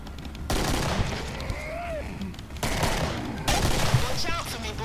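Rapid bursts of gunfire from the video game Killing Floor, loud and sustained across the clip with a few surges, with voices talking over the shooting.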